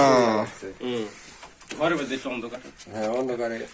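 Silver-coloured Shirazi pigeons at a pigeon farm, their low cooing heard close by and partly mixed with people talking in Bengali throughout.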